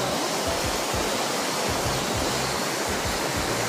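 Loud, steady rushing of a river current fills the whole stretch, a constant close wash with no breaks or voices, at Bitoon, Clarin, Misamis Occidental, Mindanao.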